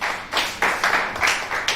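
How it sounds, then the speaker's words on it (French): An audience at a ceremony for International Youth Day applauds, a dense, steady wash of hand clapping that swells in repeated bursts over a couple of seconds. "Je pense qu'on va les applaudir."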